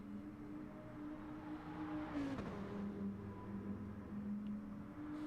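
Race cars in the racing video game GT Champions drone steadily with a sustained engine hum, one car sweeping past with a brief rising whoosh midway, no talk over it.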